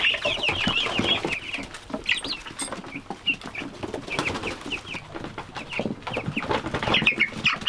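Young turkeys chirp and cluck in a busy cluster of short, high calls that overlap and repeat throughout, close by and fairly loud, with scuffling underneath and no talking.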